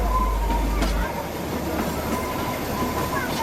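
A narrow-gauge train climbs toward Manali with a continuous rumble and faint rhythmic clatter of wheels on rails, steady and moderately loud throughout.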